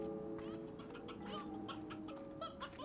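Chickens in Slime Rancher's Glass Desert cluck and chirp in short bursts over a quiet droning tonal background, soft and somewhat distant.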